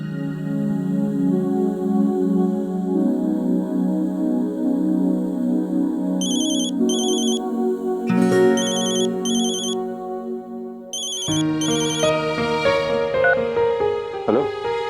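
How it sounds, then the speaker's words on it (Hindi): A phone ringtone plays as a looping electronic melody while a call goes unanswered, steady and clear, with a background music score shifting underneath. "फोन नहीं उठा रहे, दोबारा लगा ले।"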